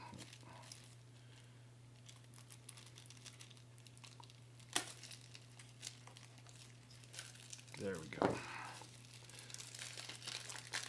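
Crinkly plastic wrapping on a Kingdom Death Monster legendary card pack is picked at and torn open, quiet scattered crackles building to a louder crumpling burst, with a low steady hum and a brief spoken remark.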